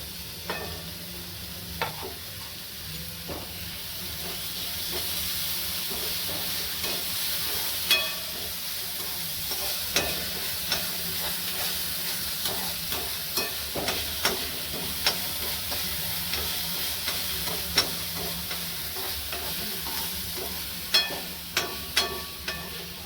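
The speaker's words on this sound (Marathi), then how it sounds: "कांदा, मिरची, लसूण आणि अद्रक चांगलं आधी आपण परतून घेणार आहोत।" Onion, green chili, garlic and ginger frying in a pan for veg momos, a steady sizzle punctuated by frequent spatula clicks and scrapes that grow busier toward the end.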